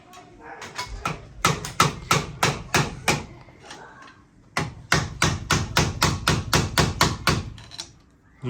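A hammer strikes a car axle on a Ford wagon with an LS engine and a broken differential, in two rapid runs of sharp, loud metallic blows separated by a short pause.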